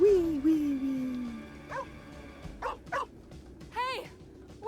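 A puppy in the video game Two Falls barks and yips in short bursts, a few sharp barks spaced across the stretch, after an opening whine-like tone, with no talking.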